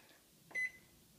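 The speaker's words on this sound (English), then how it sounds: "Oh, it's a timer." A microwave oven timer gives one short, clear electronic beep, close but soft, against a quiet room background.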